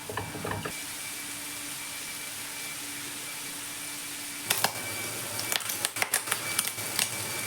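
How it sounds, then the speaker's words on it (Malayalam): Steady sizzling of squid frying in a pan, joined later by a burst of sharp, irregular pops and crackles as its water dries off, close and fairly quiet. "ഇപ്പോൾ കൂന്തൽ വെന്ത് അതിൻ്റെ വെള്ളം വറ്റി ഇതെല്ലാം പൊട്ടാൻ തുടങ്ങിയിട്ടുണ്ട്"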